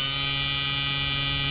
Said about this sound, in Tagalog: Try muna natin yung blower. Masyado maingay.